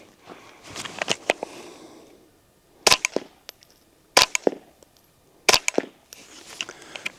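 Sharp suppressed gunshots through a Griffin Armament Paladin 5 suppressor come as a few loud, evenly spaced cracks with brief echoing tails. Softer clicks and handling noises run between them, with no voices.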